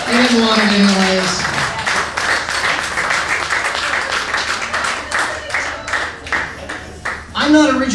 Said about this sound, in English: Let's get a big round of applause for Albert.